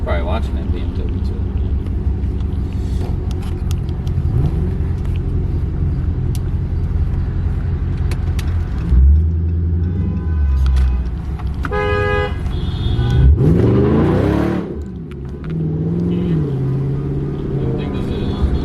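Inside a Dodge Charger SRT racing a BMW X5 on the road, a deep engine rumble rises and swells as it pulls, alongside road noise, while people talk loudly over it throughout.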